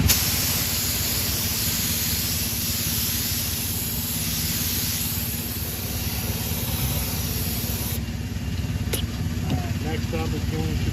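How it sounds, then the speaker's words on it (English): Clear coat is sprayed onto a restored car wheel as a close, continuous hiss that holds steady for about eight seconds, then cuts off, leaving quieter background noise. "And we'll get the clear coat on."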